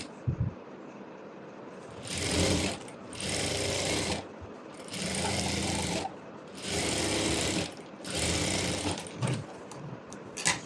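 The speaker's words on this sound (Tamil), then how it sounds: "இப்போ எடுத்துகிட்டு லைனிங்கை திருப்பி லைனிங் மேலே ஒரு டாப் ஸ்டிச்." A sewing machine runs top-stitching along the lining of a saree being made into a maxi dress, in five close bursts of fast, steady whirring stitches separated by short pauses, with a few small clicks between runs.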